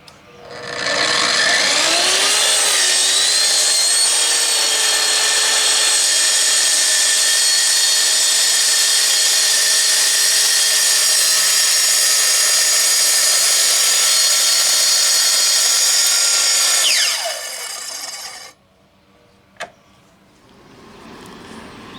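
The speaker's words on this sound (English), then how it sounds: "so let's go over to the sawhorses and we'll make a quick demo cut" A track saw rips through a wooden board on sawhorses while trimming an edge, spinning up into a loud, steady high-pitched whine with a harsh cutting roar for about sixteen seconds, then winding down and falling quiet.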